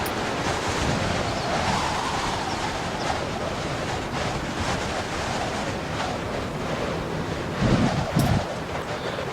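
Strong gusting wind at Torres del Paine in Patagonia, blowing at 90 to 100 km/h, roars as a steady broadband rush across the mic with a couple of louder buffets near the end; no one speaks.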